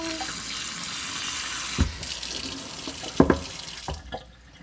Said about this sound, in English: again, I'm just gonna use the little shower hose.